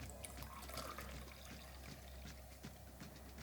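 Freshly brewed drip coffee is poured for an Irish coffee, a faint, soft liquid trickle heard up close in a quiet room with no talking.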